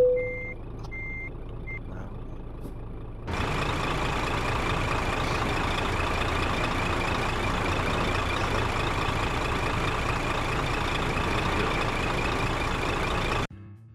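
Truck in Euro Truck Simulator 2 driven with a Logitech Driving Force GT wheel: reversing beeps and an idling diesel at first, then a steady loud engine drone holds until it cuts off near the end.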